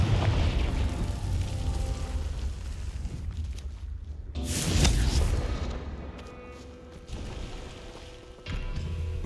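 Confringo, the blasting spell in the video game Hogwarts Legacy, goes off as a loud booming explosion over steady rumbling game ambience, with a sharp burst and a second fainter blast later.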